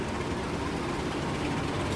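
A passenger train hauled by a red locomotive rolls past in Indonesia, a continuous broadband rumble and roar of wheels and cars holding steady and loud throughout, with no voices.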